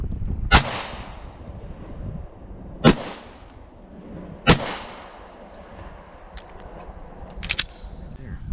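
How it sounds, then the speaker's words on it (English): Three sharp, loud gunshots from a Springfield XD40 .40 caliber pistol fired at marine boat armor plate, evenly spaced a couple of seconds apart outdoors, each with a short decaying tail, followed by fainter clicks. "Now we're going to jump up to the Springfield XD40 40 caliber round, put another 3 shots in it, see how it does."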